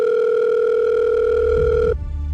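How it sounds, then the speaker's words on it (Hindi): A steady, clear telephone tone sounds for about two seconds and then cuts off abruptly, leaving a low muffled thud and background hum. "इतवार को लगभग 5 बजे उत्तम प्रकाश ने अमर को फोन किया।"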